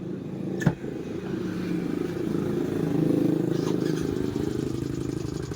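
A Yamaha Mio Soul motor scooter engine idles steadily, with a fast, regular ticking knock running through its hum and a sharp click near the start.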